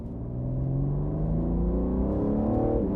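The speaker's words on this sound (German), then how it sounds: "wir lassen ihn im dritten Gang auf 2000 Umdrehungen, im Schubbetrieb dann Vollgas" A BMW M3 Competition pulls at full throttle in third gear, its engine note climbing steadily in a loud, close, rising roar over about three seconds, with no talking.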